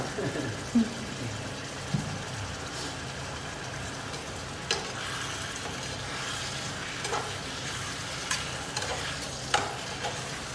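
Steady frying sizzle of chicken in an electric pan with a few scraping stirs and light clanks, a continuous crackling hiss heard up close with no talking.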